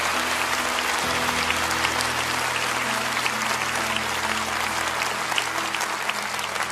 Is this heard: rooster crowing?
no